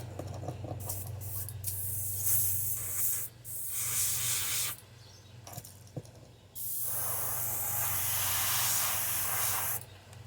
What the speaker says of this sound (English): Gotta get them chunks out. You can hear it in my airbrush.